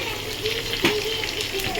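Oil sizzles in a hot kadai as potatoes are fried, giving a steady crackling hiss with a few sharper pops, heard under a voice.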